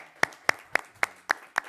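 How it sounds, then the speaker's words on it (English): Six slow, evenly spaced claps sound at a city hall meeting in Hazel Park, each one sharp and distinct, with no real crowd swell around them. "you can clap for that"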